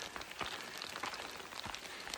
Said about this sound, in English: hiking in the hail.